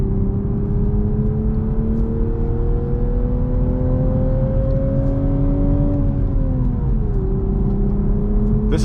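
Toyota Supra with a six-speed manual gearbox and clutch pedal pulls steadily up a mountain road, its engine note droning loudly and climbing in pitch before dropping with a shift change, close and continuous with no voices.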